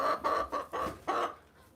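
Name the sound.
hen clucking, Rhode Island Red chicken egg song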